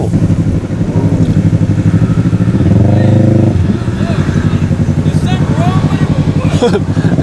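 A souped-up van revs as it pulls up, its engine swelling briefly in the middle under nearly continuous talk from people nearby.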